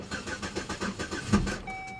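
A Pontiac G8 GT, sold as a non-runner, cranks over in the snow with a steady rhythmic starter churn, then catches and settles into a smooth idle, heard close by.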